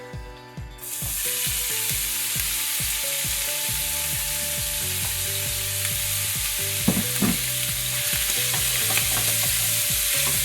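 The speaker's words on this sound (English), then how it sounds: "I'm going to put my bacon in the pan now" Bacon is dropped into a pan of hot extra virgin olive oil. A loud, close, dense sizzle bursts in almost at once and holds steady, with faint scraping and clinks from moving the strips around.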